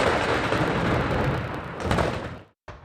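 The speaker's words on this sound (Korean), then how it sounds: "리튬 전지가 연쇄 폭발하면서 마치 전투라도 벌어진 듯 굉음이 쉴 새 없이" Lithium military batteries bursting in a factory fire, a dense, continuous roar of overlapping booms and crackling blasts that swells again near the end, cuts to brief silence, then resumes.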